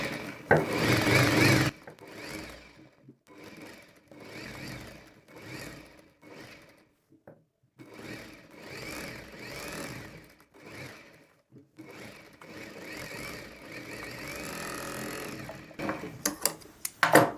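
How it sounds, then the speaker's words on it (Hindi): Sewing machine stitching a line across Rajputi poshak fabric, running in repeated short bursts with brief pauses between them, near and fairly steady, with no talking. "अब हमें यहाँ पे एक सिलाई भी लगानी है इस कलर के ऊपर।"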